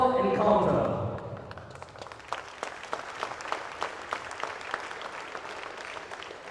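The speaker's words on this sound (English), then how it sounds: "That's a round of applause" Audience applause at the first Ben's versus Wesley basketball encounter, a broad wash of clapping that rises after a voice fades out at the start and carries on steadily, with sharper individual claps standing out.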